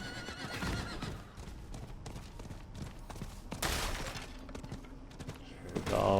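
In the Diablo 4 video game, a horse gallops with quick, busy hoofbeats and neighs amid a cluttered game soundscape, ending in a brief louder flourish.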